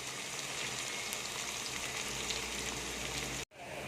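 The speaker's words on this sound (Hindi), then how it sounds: "लहसुन अदरक का पेस्ट हमारा अच्छी तरह भून चुका है" Garlic ginger paste fries in a pan with a dense, even sizzle that holds steady and then cuts off abruptly near the end.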